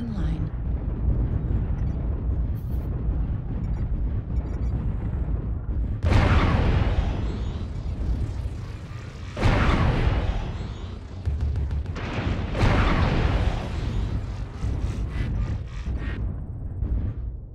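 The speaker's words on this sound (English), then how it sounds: "Artillery strike online." Artillery strike explosions in a MechWarrior video game on Polar Highlands, with three heavy booming impacts landing a few seconds apart over a steady mechanical rumble while a voice talks.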